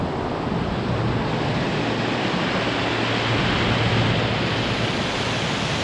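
Multnomah Falls heard from the upper viewpoint: a loud, constant roar of falling water that fills the scene without a break, mixed with a little wind.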